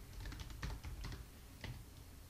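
Keys tapped in short irregular bursts on a computer keyboard, a root password being entered during an Oracle VM 3.2 host setup; close, soft clicks over a quiet room with no talking.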